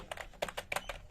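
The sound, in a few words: typing on RGB gaming mechanical keyboard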